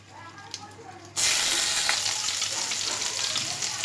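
Chopped garlic lands in hot oil with green chilies, sending up an abrupt loud sizzle about a second in that holds strong and close to the end, after a quieter stretch of low background hum.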